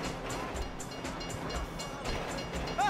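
A train rushing past in the video game Grand Theft Auto V, a dense continuous roar with rhythmic clatter and a short horn-like tone at the end, loud and alone.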